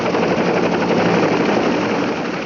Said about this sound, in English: another enemy of the foot soldier has taken to the skies, the attack helicopter